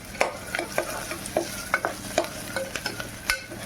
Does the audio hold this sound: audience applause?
no